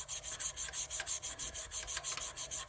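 A lava lamp "Water Nymph" pen blank is sanded with abrasive grit in steady, rhythmic back-and-forth strokes, about six per second, a close, dry rubbing with no talk.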